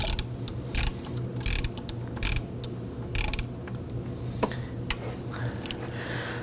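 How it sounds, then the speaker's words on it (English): A ratchet turns a 12mm socket to loosen a nut on a 2005-2009 Subaru Legacy 2.5L engine, giving close, sharp bursts of clicking repeated at fairly regular intervals over a low steady hum. "I'm going to put our 12mm socket on our ratchet"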